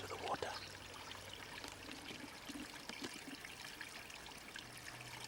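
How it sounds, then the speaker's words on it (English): Water trickles softly through a garden with bamboo, a faint, steady babbling flow with small splashes, heard at a distance against quiet outdoor background and a low hum. "Listen to the water."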